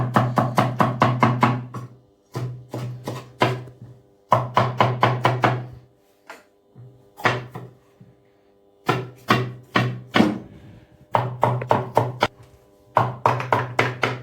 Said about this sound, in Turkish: Şimdi biberimizi doğrayacağız.